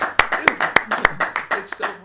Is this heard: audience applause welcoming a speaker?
yes